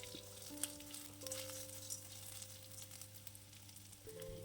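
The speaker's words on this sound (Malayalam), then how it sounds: "ആ ഇഞ്ചി വെളുത്തുള്ളിയൊക്കെ നല്ലവണ്ണം ഒന്ന് ചൂടായിട്ടുണ്ട്." Ginger and garlic frying in a pan for tomato chutney, a steady close sizzle with faint stirring clinks over a low background hum.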